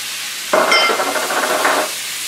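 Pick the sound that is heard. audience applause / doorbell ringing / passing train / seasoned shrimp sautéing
seasoned shrimp sautéing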